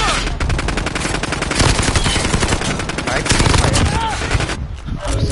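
Rapid automatic gunfire in Call of Duty Modern Warfare, a dense, loud stream of shots running almost unbroken, with brief pauses and a short lull near the end.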